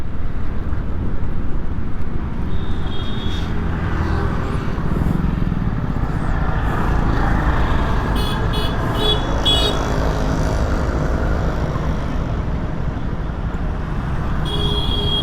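TVS Jupiter 113 scooter riding on a road, a steady engine and wind rumble close by that holds throughout, with a few brief chirps near the end.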